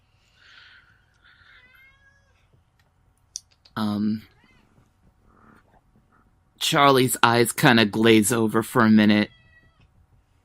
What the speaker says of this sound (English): my cat on the wall keeps on yelling